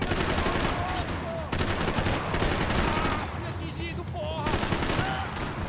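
Gunfire in Max Payne 3 set in a nightclub, sustained loud bursts of automatic and rapid shots with brief gaps, plus whistling ricochets, while a voice speaks partly underneath.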